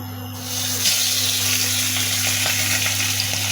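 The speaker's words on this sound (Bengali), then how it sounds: "তেল গরম হয়ে গেছে এবার মাছগুলো ছেড়ে দেবো" Fish dropped into hot oil for a Bengali kalo jeere jhol sets off a loud, steady sizzle that jumps up within the first half-second and holds dense and crackly, with scattered pops, and no talking.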